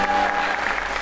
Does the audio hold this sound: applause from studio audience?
yes